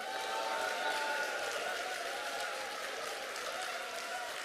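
A large crowd at a Korean political rally applauds and cheers loudly. The sound is a dense, steady roar of clapping and voices that holds throughout without letting up.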